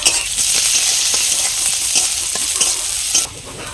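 Chopped onion fries loudly in mustard oil with black mustard seeds, five-spice and a pinch of asafoetida, a dense close sizzle with faint stirring that drops off sharply near the end.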